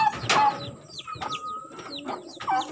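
Pigeons being cared for and treated coo softly in a few soft rolling calls, with faint chirps and brief rustles from the birds nearby.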